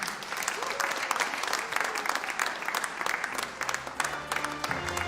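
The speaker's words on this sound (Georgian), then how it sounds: "აპლოდისმენტები გუნდი მწვანე." Studio audience applause for team green on a Georgian quiz show, a steady dense patter of many hands clapping at moderate distance, with faint music entering near the end.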